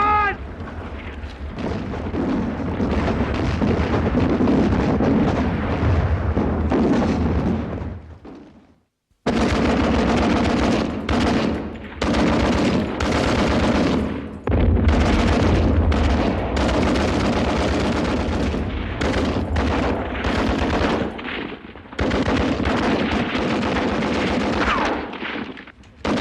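A dense World War I artillery barrage with rattling gunfire, continuous heavy booms and crackling shots stacked loud and close, briefly dropping to silence before resuming with the same relentless intensity.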